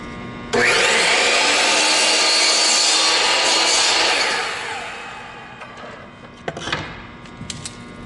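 A handsaw trims a small wooden stock riser piece with a steady, loud rasping stroke lasting several seconds, then fades into light tapping and handling knocks.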